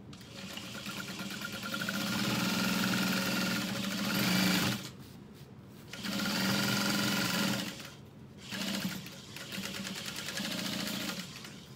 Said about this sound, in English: And we're going to sew through that.